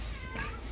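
A short, faint meow from a house cat comes through nearby kitchen voices, a single drawn-out call lasting under a second.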